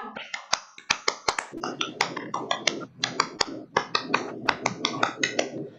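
A classroom of children performs the Pramuka scout clap, a rhythmic series of sharp, close hand claps in quick clustered bursts, with children's voices mixed in underneath.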